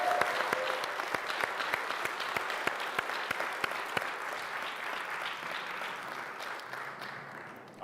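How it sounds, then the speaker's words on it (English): An audience at a college textile pitch event applauds its finalists with a sustained round of clapping, dense and fairly close at first and then gradually thinning out over several seconds. "Can we just get a quick round of applause to all of our finalists"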